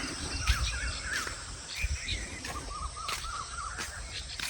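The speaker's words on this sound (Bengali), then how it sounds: "পাখির ক্যাচির মেচিরে এইটুকু টাইম অনেক ভালো লাগে" Birds chirp in a steady early-morning outdoor chorus near a bridge with occasional cawing and a constant insect-like buzz, some calls sounding fairly near.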